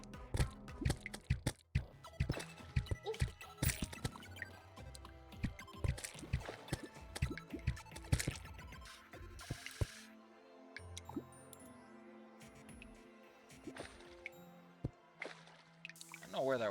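Water flows in Terraria, heard as a stream of quick drips, squishes and sloshes. The sounds rise and fall through the passage, with busier stretches and quieter gaps, and a voice talks over them.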